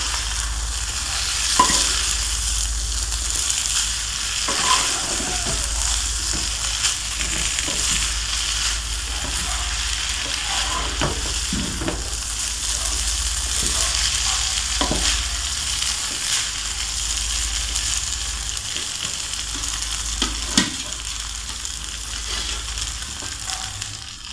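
Vegetable fried rice is stir-fried in a pan, with a steady sizzle broken by repeated scrapes and taps of the spatula at an uneven rhythm, close and moderately loud throughout.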